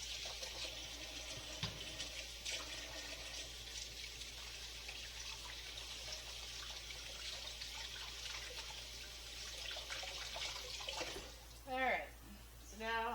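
Running water pours steadily into a kitchen sink while a bowl is washed during banana bread baking, a constant close hiss and splash with a few clinks, and people talk near the end.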